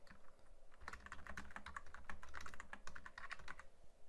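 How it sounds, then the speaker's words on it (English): Fingers type on a computer keyboard at close range, a quick uneven patter of light key clicks running for several seconds with no voices. "I can just, type away there"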